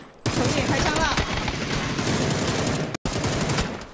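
Sustained automatic gunfire in PUBG during a PGC 2022 esports match, a dense rapid burst of shots filling nearly four seconds with one abrupt brief cutout near the end, loud and close.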